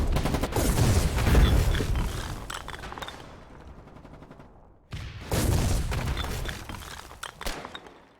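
Gunfire in Foxhole's frontline fighting arrives as two heavy, close volleys of rapid shots and thuds, each fading into quieter crackle, with the second burst starting abruptly partway through.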